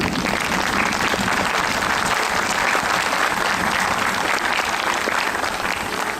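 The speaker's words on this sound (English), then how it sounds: "Let's give them a big round of applause." Applause for school staff at a graduation ceremony, a dense, steady clapping that holds evenly at full strength with no voices over it.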